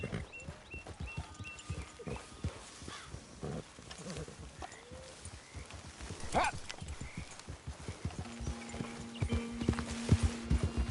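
Horse hooves clip-clopping at a steady trotting rhythm while riding in Red Dead Redemption 2, close and continuous, with occasional tack jingles and a brief voice.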